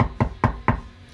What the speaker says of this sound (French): vous entendez qu'on toque assez fort à la porte, vraiment